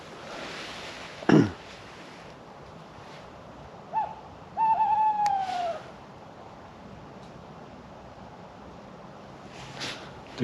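An owl hooting at night near an autumn bivouac camp with a tarp, a few separate calls, one sharp call early then a longer wavering hoot midway, moderately near against quiet background hiss.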